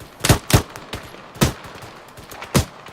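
Gunfire in the military video game ArmA 3 during a British milsim section training, with five sharp shots in irregular pairs and singles, fairly close and loud, each followed by a short echo, with no talking over them.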